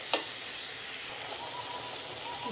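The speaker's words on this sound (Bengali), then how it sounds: "মশলাগুলো আমি তেলের মধ্যে ভালো করে একটু কষিয়ে নেব।" Chilli powder and spices sauté in oil for a coconut prawn curry, a faint steady sizzle after a brief sharp clatter at the start, quiet and without speech.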